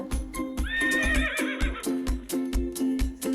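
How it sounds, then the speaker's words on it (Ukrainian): A horse whinnies loudly up close, a long quavering neigh, over a steady rhythm of clip-clopping hooves. "Кінь каже Іо."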